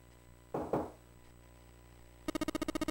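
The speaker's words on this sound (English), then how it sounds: "Seven, who was tapping lightly on the wooden door" Light, quick tapping on a wooden door in the video game 999: two duller thumps come first, then a fast, even run of about ten close, crisp knocks.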